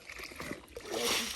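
Stale water that has sat too long on a farm is scooped out by hand, a few short splashes and sloshes followed by a steadier pouring wash of water, close by and with no voices.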